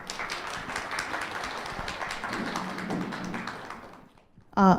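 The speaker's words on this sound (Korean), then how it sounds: "박수 부탁드리겠습니다" An audience at a feminism book talk claps as a guest is invited on stage for open remarks: sustained, fairly loud applause with crisp individual claps that fades out, followed by a brief close voice at the end.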